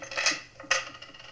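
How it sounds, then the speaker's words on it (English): Keys clatter from pockets onto a table in two quick metallic jingles, close and clear, the second sharper than the first. "All right, keys."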